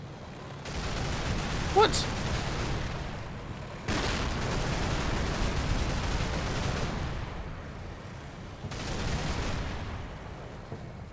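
Bursts of gunfire from the Cold War tactics game Combat Mission: Cold War, with a sharp shot near the start and then heavy sustained rumbling volleys that swell at about four and nine seconds, while a voice speaks briefly over the fire.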